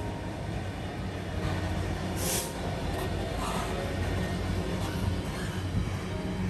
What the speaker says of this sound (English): First up was a GBRF freight service hauled along by Class 66 locomotive number